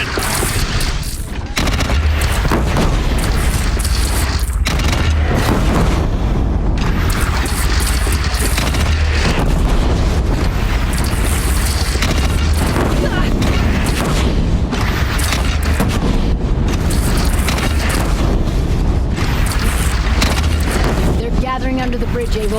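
Loud, continuous explosive booms and gunfire-like blasts as a bridge is blown up during a bandit clan battle in the video game Horizon Zero Dawn, filling the scene with dense rumbling under voices.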